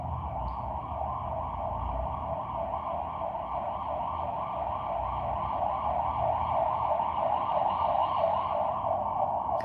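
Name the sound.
police sirens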